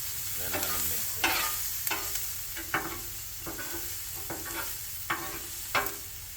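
Cheesesteak meat sizzles steadily on a Blackstone griddle while a spatula mixes it, scraping in sharp clacks about once a second over a constant hiss, close and loud.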